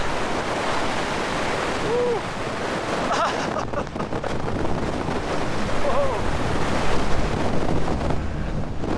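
Steady wind on a mountain peak buffeting the microphone outdoors, a continuous roaring rush that swells and eases slightly, with no one talking.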